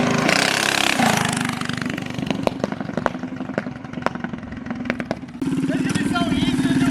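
A DIY doodle bug minibike engine runs and backfires, a sputtering engine note broken by several sharp popping bangs, with excited voices talking over it.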